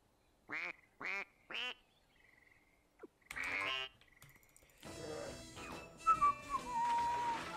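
Three short, loud harmonic duck quacks in the PC video game Open Season, followed by more game sounds, a whooshing burst and a busy layered background of music and effects.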